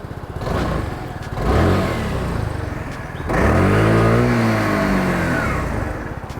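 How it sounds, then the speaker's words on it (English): A Keeway Vieste 300 scooter revs close by, its exhaust climbing in pitch through two throttle blips that rise, hold and fall back toward a lumpy idle, loud and alone. "And this is what it sounds like,"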